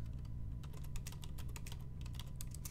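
Rapid, steady typing on a computer keyboard, with close key clicks patterning continuously throughout over a low background hum, no voices.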